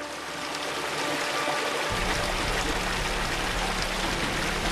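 A creek flows through a canyon, giving a steady, soft rushing and trickling of water that stays even and continuous, with no voices.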